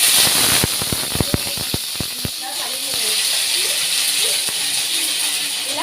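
Mustard seeds and curry leaves sizzling in hot oil for chutney tempering: a burst of sharp crackles and pops at first, settling into a steady hiss with scattered spits, close up and alone.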